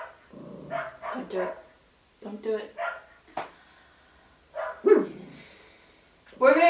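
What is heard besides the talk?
dog barking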